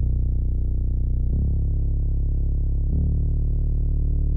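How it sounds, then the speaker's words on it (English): A simple synth bass pad from an indie folk production holds a steady, warm, buzzy low drone, loud and unbroken, shifting pitch twice over about four seconds with no voices. "So first of all, there's this really simple bass pad"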